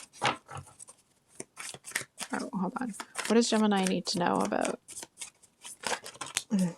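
A deck of tarot cards being shuffled clumsily, quick rapid riffles and papery rustles in short bursts, close and fairly loud, interleaved with someone speaking.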